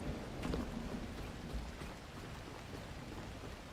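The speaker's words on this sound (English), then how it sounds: "rain is killing my visibility" Rain falls steadily in the game The Last Caretaker, a soft continuous hiss with low rumbling underneath and faint scattered drops, quiet and unbroken with no voices.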